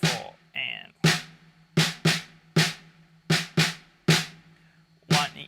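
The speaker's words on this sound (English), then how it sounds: "we're playing a little syncopated snare pattern that sounds like this." Syncopated snare drum pattern played alone, with sharp, crisp hits in an uneven rhythm of about ten strokes, close and clear with short decays, from a worship song groove.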